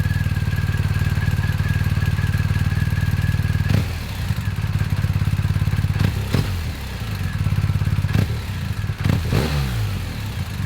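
A BMW R1250GS motorcycle engine idles and burbles with a deep exhaust note, steady and close, with a few sharp revs and clattering thumps toward the end.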